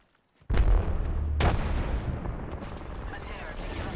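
Frag grenade blast in a squad shooter video game: a sudden loud boom followed by a second heavy burst and a sustained rumbling roar, close and dominant.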